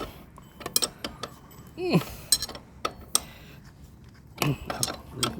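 Hand tools clink and ratchet while a motorcycle wheel nut is tightened, a scattering of sharp metallic clicks and knocks at irregular intervals, fairly faint, with a brief squeak in between.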